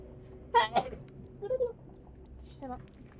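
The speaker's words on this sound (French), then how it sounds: "J'ai envie d'éternuer." A quick sneeze bursts out close to the microphone in a room with low background hum, followed by a few brief vocal sounds.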